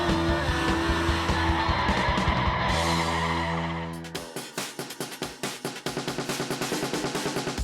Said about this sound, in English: have no problem doing a burnout in it